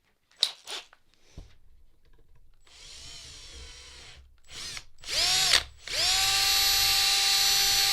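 A power drill works to loosen a part on a kick pedal, whirring in several bursts of rising and falling pitch, with short gaps between, ending in a sustained high whine; some clicks and handling noise come first.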